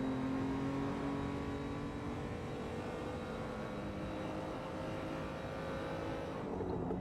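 BMW M235i race car in a virtual racing cup at Donington, its engine held at full throttle with a steady, sustained drone and gradually shifting pitch, loud and continuous throughout, dipping briefly near the end.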